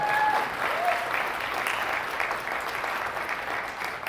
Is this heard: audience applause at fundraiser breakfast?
yes